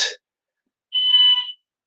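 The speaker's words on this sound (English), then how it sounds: "we do get false alarms go off" A building fire alarm sounds in a short electronic tone burst of about half a second, preceded by a brief noisy burst and followed by silence; indoors, fairly close.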